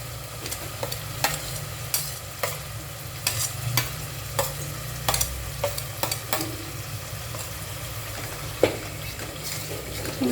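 A low sizzle runs under repeated scraping strokes of a spatula stirring thick roasted, ground onion paste in a pan, irregular clicks every second or so.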